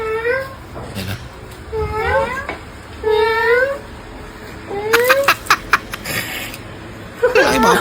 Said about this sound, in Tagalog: Ay, mga pusa naman yan.